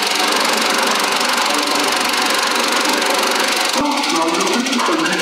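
An old cinema film projector runs with a loud, continuous mechanical clatter and whir close by. Its rattling texture shifts slightly partway through.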